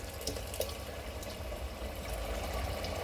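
Mutton stock poured into a cooking pot for mutton pulao: a steady splashing liquid pour, fairly close and continuous, with the flow getting slightly heavier toward the end.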